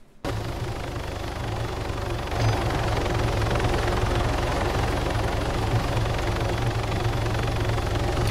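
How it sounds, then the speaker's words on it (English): Helicopter engine in the Arma 3 video game, a steady loud rotor and turbine roar that starts abruptly and holds for several seconds, swelling slightly partway through, with no talk over it. "I'm gonna try and get in this helicopter."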